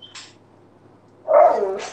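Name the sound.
pit bull dog barking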